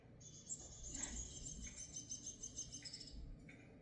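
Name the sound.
bird chirping, likely from a video the cat watches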